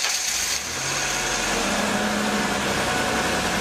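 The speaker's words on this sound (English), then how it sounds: "Start the engine." A car engine being tested for a misfire runs with a steady, close mechanical hum and a rough idle throughout, with no talk; no distinct starter crank stands out.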